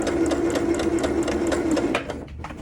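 Sewing machine stitching the curved inner leg seam of shorts, a steady close whirring run that stops after about two seconds, leaving quieter handling sounds.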